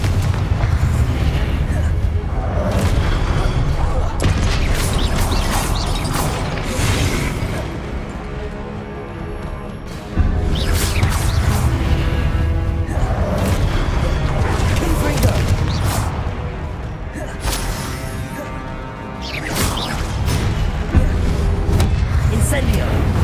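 Confringo explosive spells blast repeatedly in Hogwarts Legacy, dense booming impacts and crashing combat noise filling the scene, with a voice calling out over the barrage.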